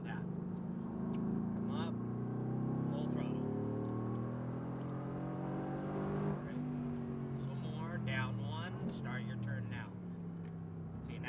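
A Mercedes-AMG GT R at full throttle on a racing track, its engine note rising and falling through gears inside the cabin as an instructor talks over it throughout.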